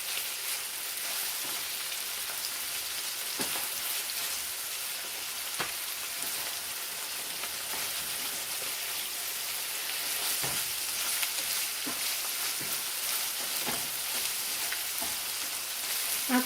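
Thin-sliced steakums sizzle steadily in a frying pan, a dense, even crackle of hot fat running the whole time with small pops and spits scattered throughout, close and moderately loud with no talking.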